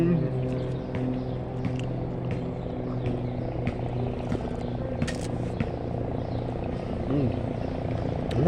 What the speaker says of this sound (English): All I hear is helicopters.